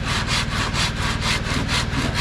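A hand saw cuts through wood at a house construction site, rasping in a fast, regular back-and-forth rhythm of about eight strokes, close and loud with no talking.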